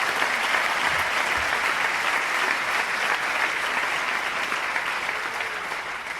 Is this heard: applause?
yes